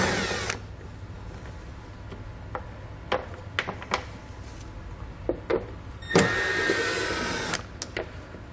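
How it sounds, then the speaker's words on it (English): A power tool with a 7mm socket removes bolts while a Draw-Tite Max-Frame trailer hitch is fitted to a 2020 Chevrolet; scattered clicks and taps lead to a sustained whirring burst of about a second near the end. "I'm going to grab a 7mm socket and pull both of those bolts out."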